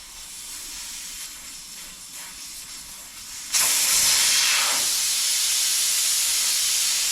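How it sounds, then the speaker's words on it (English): Air hissing out of a 1964 VW Beetle tubeless wheel tire with its valve core removed, a loud steady broadband rush starting abruptly partway through and continuing, faint room noise before it. "you take all the air out, and to do that you take the valve out"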